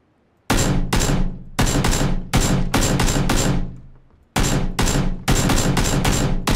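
Bursts of loud close gunfire in the battle royale game PUBG, several rapid volleys separated by short pauses, sharp and punchy with no talk over them.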